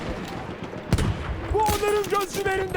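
Gunfire from a rifle in Battlefield 1: a sharp report near the one-second mark, then a dense stretch of shots and battle noise with tonal whines, under an ongoing mix of game sounds.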